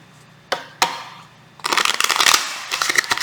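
A deck of tarot cards is tapped twice, then riffled and shuffled in a quick, close, crisp flurry of flicking card sounds with a short pause before a final burst.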